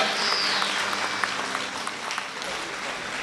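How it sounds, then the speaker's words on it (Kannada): Applause from an audience at a Hallikar community elders' felicitation festival in a village, a dense sustained clatter of many hands clapping that fades slightly near the end. "ಚಪ್ಪಾಳೆ."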